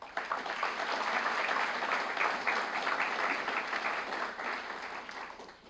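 Steady applause from a banquet audience at a scholarship awards dinner, many hands clapping at once in a dense, even wash that holds strong for several seconds before easing slightly at the end.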